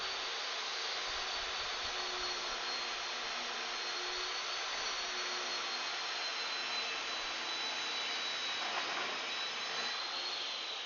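A woodworking saw running with a loud, steady broadband whir that holds evenly from start to finish, close up and with no talking.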